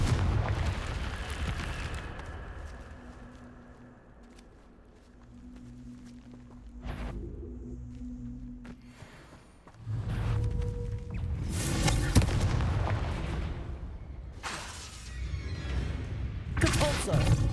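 Confringo fire spell blasts in Hogwarts Legacy, a series of loud, broad booming bursts with crackling tails, several explosions arriving in clusters over a steady game background.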